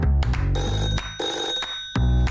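Telephone ringing as a call-in line opens on a live talk show, repeated bright electronic rings in short bursts, close and loud with no talking.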